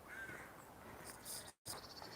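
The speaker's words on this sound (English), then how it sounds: "So the crows are all nesting in these big" Crows calling from their nests high in big beech trees on a morning walk, harsh caws sounding at moderate distance over steady outdoor background noise, with a brief dropout partway through.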